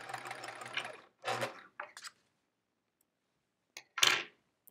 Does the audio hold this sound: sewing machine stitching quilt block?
yes